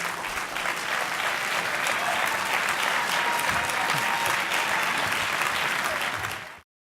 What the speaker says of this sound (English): could we have a round of applause for all 9 gentlemen,